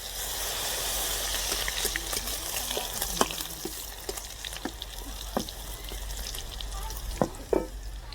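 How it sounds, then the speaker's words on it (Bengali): Garlic hits hot caramelizing sugar in a pan, giving a steady close sizzle with scattered sharp pops and stirring clicks throughout. "চিনিটা গরম হয়ে গেছে, এবার রসুনটা দিয়ে দেব।"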